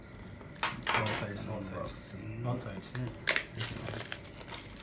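Cardboard packaging for a Moto Z Play phone being cut open by hand, with scattered crinkles, scrapes and sharp snapping sounds close by, mixed in with brief speech.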